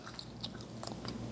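Someone bites and chews oven-style fries made without oil in an air fryer, giving a few soft crunchy bites close to the mic with no talking.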